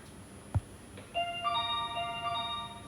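Autobot Lazer lite robot vacuum locator alert tone, a short electronic melody of steady bright beeping notes that rings out for about two seconds after a single thump, close and clear in a quiet room.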